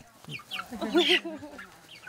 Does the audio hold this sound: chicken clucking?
yes